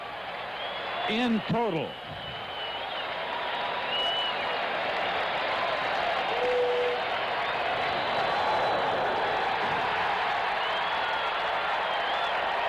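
A baseball stadium crowd rises to its feet, applauding and cheering a strikeout by pitcher Dwight Gooden in a Giants at Mets game, with a broad, sustained roar of clapping under a broadcaster's voice.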